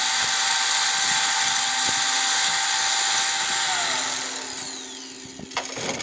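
A Strong Arm 5 portable drill press drills overhead, producing a loud, high, steady motor whine that winds down near the end, followed by a few clanks.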